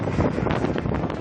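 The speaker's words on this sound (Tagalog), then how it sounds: "So malakas po yung hangin." Strong coastal wind gusting across a fire scene among light-material houses and junk shops near the seashore, a loud, ragged rushing that buffets the microphone throughout the short stretch, with no talk.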